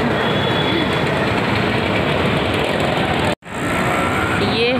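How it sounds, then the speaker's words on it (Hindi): A train rolls past near Kala Ghoda railway station, a loud, continuous rumbling roar of wheels and carriages close by, broken by one very brief dropout before the noise resumes. "ये है काला घोड़ा रेलवे स्टेशन के पास"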